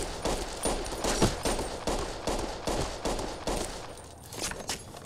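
Bursts of enemy gunfire in a video game, repeated volleys of shots at a steady close-to-mid distance, rising and falling over several seconds with no talking.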